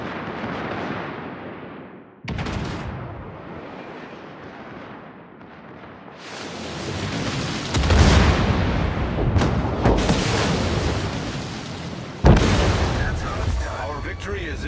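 Naval artillery fires in World of Warships, deep booming salvos and blasts rolling out repeatedly, loud and close, with a sharp crack near the end over a constant battle rumble.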